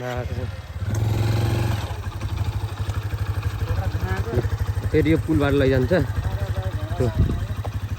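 A motorcycle engine runs steadily during a ride, a close, throbbing low rumble with a few throttle surges, while people talk over it.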